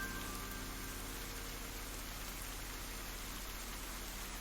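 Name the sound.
rain falling in Ender Lilies video game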